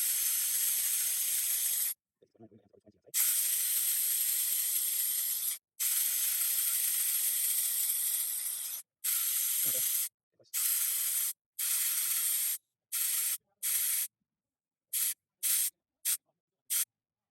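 Air hisses out of a 4x4 mud tyre through a Maxi Trac digital tyre deflator, a bright steady spray-like hiss broken into long bursts and then a run of short on-off spurts near the end, with a faint ratcheting click in one gap.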